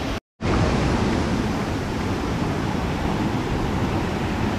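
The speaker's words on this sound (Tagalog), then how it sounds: "rumaragasa yung lakas ng tubig" Rushing water of a waterfall at a Philippine falls site, a loud, steady broadband roar that fills the whole clip after a very brief dropout near the start, with no talking.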